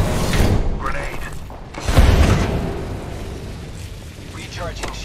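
A grenade blast in the Apex Legends battle royale shooter, a heavy low boom around the two-second mark rising out of a dense mix of game effects, with voices talking over it.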